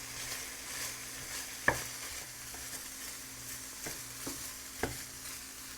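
Sausage sizzles softly in a pan while a utensil breaks it into crumbles, with a few sharp scraping knocks against the pan over the steady frying hiss.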